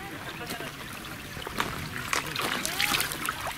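Water splashes and trickles as someone dips into a pool of clean but salty water during a hike along the Jordan River, with irregular bursts of splashing under people talking nearby.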